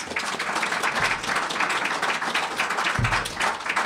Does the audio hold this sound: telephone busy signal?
no